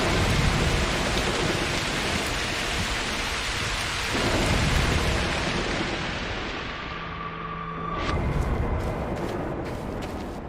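A thunderstorm with steady heavy rain in the video game Broken Pieces: a dense rain hiss with deep rolling thunder swelling through it, then a sharper crackle near the end.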